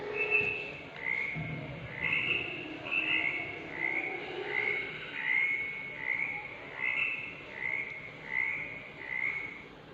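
Regular, chirping frog croaks repeat roughly every second, fairly near and clear above a quiet, hissy background.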